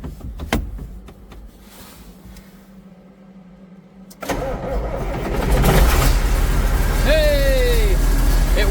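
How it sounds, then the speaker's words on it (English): A John Deere 4050 tractor, low on battery, cranks and its diesel engine fires, settling into a loud steady idle close by, with a squeaky mechanical whine and a voice briefly heard over it. "let's see if we have enough battery in here left to get it started"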